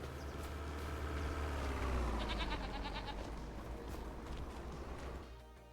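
Goats on a farm in Farming Simulator 25 bleating, several overlapping calls over a constant low rumble of background noise, fairly close and steady, fading slightly at the end with no talk.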